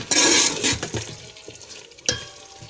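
Aloo gosht masala being stir-roasted in a degi-style pot. Loud scraping and clattering of a spoon against the metal pot comes in bursts over a faint sizzle, with one sharp knock near the end.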